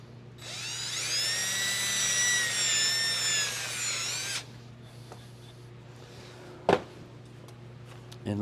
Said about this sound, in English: I'm going to drill a hole in my board.